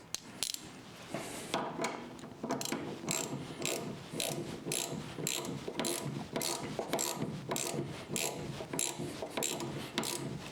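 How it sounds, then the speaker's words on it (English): A hand ratchet tightens car suspension parts, clicking in quick, steady repeated strokes with short pauses, close and clear with no talking. "now technically I'm tightening everything together, so now there's no more play in there"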